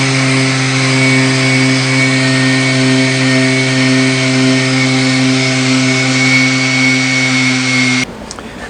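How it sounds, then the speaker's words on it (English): A wood router runs steadily, flattening a trim surface while building two bookshelves, its loud, even motor whine holding for about eight seconds before cutting off abruptly. "try not to round them over and just make it flat so my router will be flat when I go across the trim."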